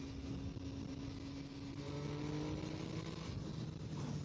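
A 2014 MV Agusta Brutale 800 motorcycle revs hard in fourth gear, a steady high-pitched engine whine with rising harmonics building through the run, loud and continuous with wind noise and no talk.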